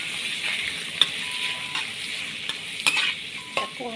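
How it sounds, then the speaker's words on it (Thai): Shrimp sizzle in a hot pan for a Thai basil stir-fry, with steady frying hiss and repeated metallic spatula scrapes and clinks against the pan, close by and without speech. "ตักกุ้งให้สุกก่อนจ้า"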